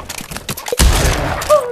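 A double gunshot fires in the Pavlov VR shooter game: a loud, close, sharp blast cracks out in the middle of a short stretch of background noise.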